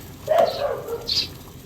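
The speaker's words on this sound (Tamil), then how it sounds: "இந்த பக்கத்து நாய் இருக்குது" A neighbour's dog lets out a few short, mid-distance barks and yips that carry clearly over the low background of an outdoor home kitchen.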